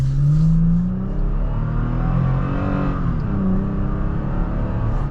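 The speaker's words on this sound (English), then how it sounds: "we're gonna get a good acceleration with that." A 2022 Toyota Tacoma TRD Pro accelerates hard, its engine climbing loud and close through rising revs, shifting once and pulling on again.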